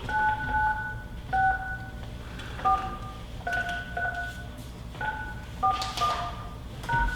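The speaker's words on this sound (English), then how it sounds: "Please enter your access code followed by the pound or hash sign." Telephone keypad DTMF tones entering an access code on a phone line: a quick run of about a dozen clear beeps in short, irregular clusters, with faint line noise between them.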